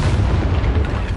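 A Confringo spell blast in Hogwarts Legacy lands as a loud, booming burst with a deep rumbling body, filling the moment alone without speech.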